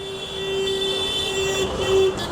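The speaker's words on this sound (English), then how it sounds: "I've been hearing the honking outside for a few hours" Car horns sound over a busy Kolkata street, with a sustained horn tone riding steadily above a dense, continuous rumble of nearby traffic.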